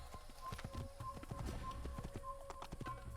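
Horse hooves in the video game Assassin's Creed clip-clop in a steady, quick rhythm, fairly faint, over a low constant hum.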